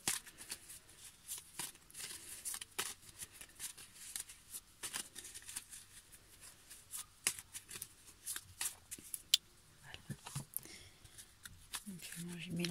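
Oracle cards being shuffled by hand, a steady run of soft papery riffles and slides with occasional sharper flicks, close up and fairly quiet, with a voice speaking now and then over it.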